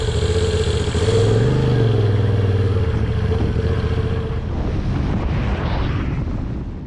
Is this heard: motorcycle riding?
yes